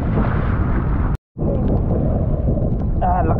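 Strong typhoon wind roars and buffets the microphone in a steady low rumble, cutting out for a split second before resuming.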